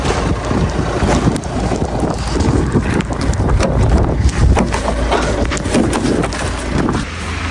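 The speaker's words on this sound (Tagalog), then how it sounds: "Tapos lakas pa yung hangin." Strong wind in a snowy Greenland setting roars and buffets the microphone, a loud, steady, rumbling gusting with no pause and no speech.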